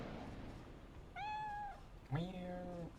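Two distinct cat meows in Cyberpunk 2077, the second louder and more drawn out, over a low steady background hum.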